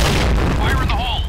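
A grenade explosion in the online shooter Point Blank, a single loud, close boom with a dense rumbling body and whistling game effects trailing over it.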